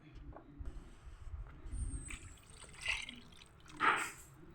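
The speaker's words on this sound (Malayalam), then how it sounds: "അപ്പോൾ നമുക്ക് ഇതിലേക്ക് ശർക്കരപ്പാനി 2-ാം പാൽ ഒഴിക്കാം." Jaggery syrup and second-extract coconut milk are poured into a pan for a post-delivery shallot lehyam, giving faint, close dribbling and a couple of brief liquid splashes in an otherwise quiet kitchen.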